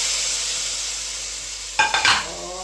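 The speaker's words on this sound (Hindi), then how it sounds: "ये हमने लगा दिया तड़का" Hot oil tempering (tadka) for kadhi pakora hits the pan with a sudden loud sizzle and spatter about two-thirds through, after a steady low background hiss, close up with no talk.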